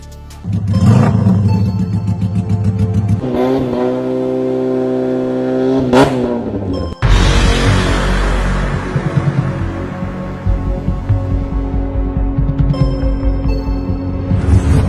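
A motorcycle with a loud aftermarket racing exhaust revs hard, rising to sharp roaring peaks and dropping back, then crackles and burbles, close and very loud.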